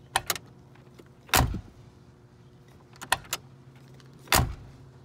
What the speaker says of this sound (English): the sound the doors make when they close. It's this old school click